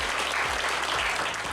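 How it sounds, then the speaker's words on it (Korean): Audience applause welcoming the secretary-general of a Korean government advisory council at a formal ceremony, a steady, dense wash of clapping filling the room throughout. "큰 박수로 환영해 주시기 바랍니다"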